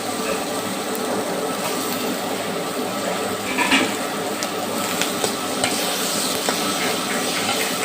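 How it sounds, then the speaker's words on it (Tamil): Tomatoes sauté in a pan for ridge gourd and peanut chutney, giving a continuous even sizzle and crackle with occasional stirring clinks. The sound is steady and moderately loud throughout. "தக்காளி போட்டு வதக்கிக்கணுங்க"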